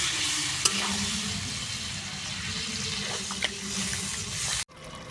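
Water poured into a pan of Kashmiri aloo dum, spiced potatoes, sets off a loud, steady broadband sizzle and hiss with a few faint clinks, ending abruptly near the end.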